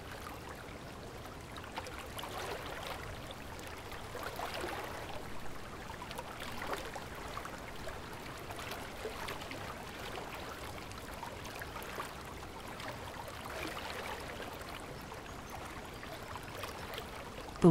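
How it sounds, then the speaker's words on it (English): Gently flowing river water makes a soft, steady wash of trickling and lapping, faint and even throughout with no voices. "The water is so calm and tranquil"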